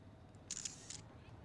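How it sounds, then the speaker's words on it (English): A camera shutter clicks in the Chaos;Head Noah visual novel: a short cluster of sharp, bright clicks, two or three in quick succession, over a quiet low background hum. "The loud clicking sound of a camera shutter."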